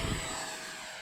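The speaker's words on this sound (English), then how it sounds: "And we'll let her take off with takeoff flaps." Arrows Marlin model airplane taking off with takeoff flaps set on a calm day: a brief, steady electric propeller whine, close and fairly loud, holding level with no talk.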